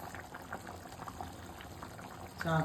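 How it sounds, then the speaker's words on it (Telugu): A pot of catla fish curry with coriander powder stirred in boils steadily, its oil risen to the surface, giving a dense, continuous bubbling and sputtering that swells briefly near the end. "నూనె తేలింది మంచిగా, ఇంకొంచెం ఉడకాలి"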